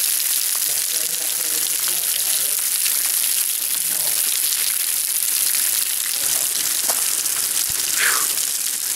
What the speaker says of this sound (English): I'm like cooling off in a fucking waterfall.